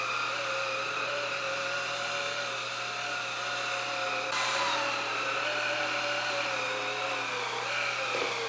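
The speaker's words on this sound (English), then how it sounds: "I'm going to vacuum the carpet and the actual hardwood floor now before I do any mopping" A Shark vacuum cleaner runs over carpet and a hardwood floor in an apartment, giving a steady, loud motor whine with a brief surge in pitch partway through and no talking.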